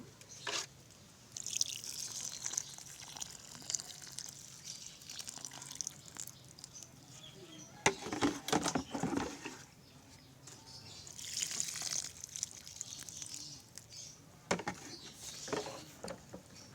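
Water poured onto soil around a newly potted Hawaiian hibiscus, giving irregular close dripping and pattering with brief splashy bursts and quiet gaps between pours.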